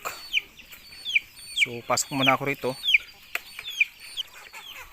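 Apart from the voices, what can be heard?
chickens clucking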